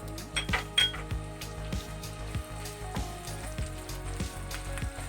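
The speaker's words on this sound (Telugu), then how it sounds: "ఒక 2 minutes అని ఫ్రై చేయండి." Onion pieces fry in oil in a pan over a medium flame for a paneer butter masala, giving a steady soft sizzle under repeated light clinks of a utensil against the pan, close and with no talking.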